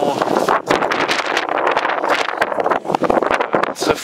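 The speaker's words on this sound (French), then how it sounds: "très froid, beaucoup de vent." Strong wind buffets the microphone at the summit of Kilimanjaro, a loud, continuous roaring rush with gusty surges, close and harsh throughout, with a brief dip near the end.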